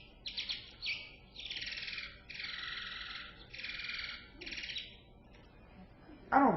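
Bat courtship song made of repeated high buzzy syllables in regular bursts ending in a trill, clear and moderately loud, followed by a brief louder sound at the close.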